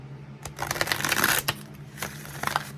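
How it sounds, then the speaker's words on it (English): Tarot cards being shuffled by hand, a quick riffling burst of papery flutters followed by a few shorter shuffles, close and clear with no talking. "give me one more shuffle for my Leos"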